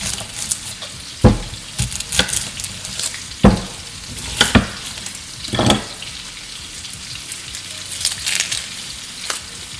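Pot roast meat searing in a hot pan, a loud continuous crackling sizzle with irregular bursts of spatter and popping, close by and alone without talk.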